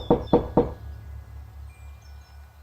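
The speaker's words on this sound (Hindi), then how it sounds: "काका के घर पहुंचा और दरवाजा खटखटाने लगा" Three quick, loud knocks on a door at night in an animated horror story, evenly spaced and close, followed by a low, quiet hum.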